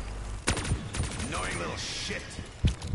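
Gunfire in the Black Ops 3 Revelations Zombies video game, several sharp shots bursting at irregular intervals amid dense game effects and background noise.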